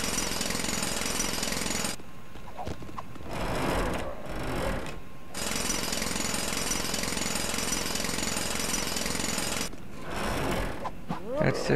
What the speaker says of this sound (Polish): młot pneumatyczny